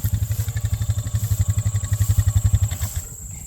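A four-wheeler ATV drives across a ranch pasture, its engine giving a close, steady, rapid throbbing chug with a rattling edge that drops away near the end.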